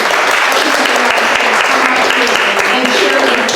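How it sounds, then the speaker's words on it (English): Audience at a human rights event applauding poets and musicians, dense continuous clapping filling the room loudly and evenly for several seconds. "one more round of applause for all the poets,"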